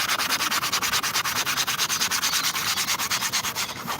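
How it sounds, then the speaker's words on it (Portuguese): Coarse sponge sandpaper rubbing an electrical-conduit flute, rapid rhythmic back-and-forth scratching strokes, close and steady, about five strokes per second with no talking. "eu venho com uma outra lixa mais grossa aqui, lixa esponja também"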